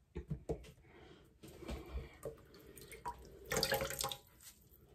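Water runs from a tap while a face mask is soaked and scrubbed off with a brush, heard as quiet intermittent splashing and trickling with brief thumps and a louder gush near the end, without speech.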